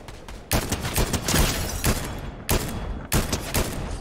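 Gunfire in the video game Fortnite, loud bursts of rapid shots in several clusters with brief gaps, close and dominant.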